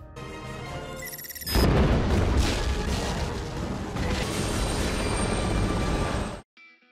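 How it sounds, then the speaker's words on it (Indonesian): A time bomb explodes in an action film scene near a helicopter: a sudden loud, deep blast erupts after a brief lull, followed by a sustained roaring rumble and debris-like noise that cuts off abruptly, with no talk. "bom waktu yang dipasang Cody pun meledak"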